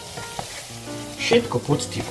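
A spoon stirs chili meat mixture in a hot pan, loud close frying sizzle with scraping and clattering strokes that swell in the second half.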